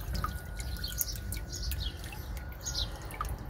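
A small jet of clean water trickles and drips softly at a bar, quiet and continuous, with birds chirping intermittently in the background outdoors.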